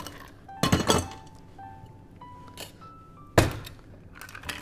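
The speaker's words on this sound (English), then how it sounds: "Add some ice." Ice goes into a cocktail glass or shaker while a drink with aquafaba is being made, giving two sharp clattering drops of cubes with light clinks and taps between them, close and fairly quiet overall.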